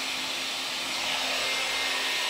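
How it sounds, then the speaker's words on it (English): A Parkside PUV 2000 B1 electric weed burner runs with a steady, loud, close blowing hiss like a hot-air gun, unbroken and with no voices. "Well, let's plug it in and see how it works. And just press the trigger."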